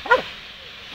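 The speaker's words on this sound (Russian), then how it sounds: "Не знав, в яку сторону гавкать." A G4S security guard dog gives one sharp, close bark near the start, followed by quiet with only faint background noise.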